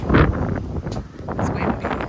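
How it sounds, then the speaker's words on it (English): Gusty wind buffets the microphone outdoors behind a Dollar Tree store on Cape Cod, a close, loud rumbling roar that surges and dips over about two seconds with a few faint rustles mixed in. "It's windy."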